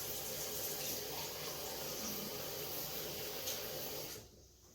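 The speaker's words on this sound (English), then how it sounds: "And the rest, I'm going to add the water." Water poured steadily into an Instant Pot while making Italian-style cauliflower soup, a soft continuous rushing pour that stops abruptly near the end, fairly quiet and without talking.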